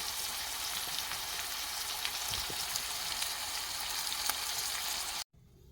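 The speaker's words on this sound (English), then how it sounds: "so I put the marinade in, so I'm going to let that boil for a bit." A garlic and herb marinade for lamb shanks boils and sizzles in a pan with a dense, crackling hiss that holds steady for several seconds and then cuts off abruptly into near silence.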